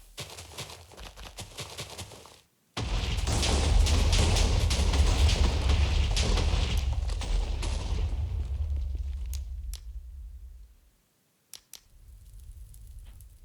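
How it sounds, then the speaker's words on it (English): Blocks of TNT detonating inside a Minecraft temple, a sudden loud roaring blast that rumbles continuously for about eight seconds before cutting off, followed by a few sharp pops and softer rumble. "Alright, so we pretty much blew up the entire temple."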